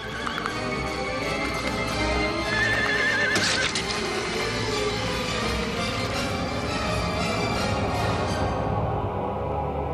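Horses neigh loudly and gallop with steady hoofbeats in a dramatized scene of ancient China, with a whinny rising midway, the sound full and close throughout.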